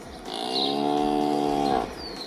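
A cow loose inside a house in an animated children's show lets out a single long, drawn-out moo, clear and close, with no voices over it.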